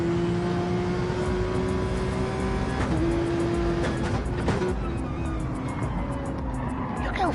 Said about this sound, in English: Look how fast he's slowing that car down.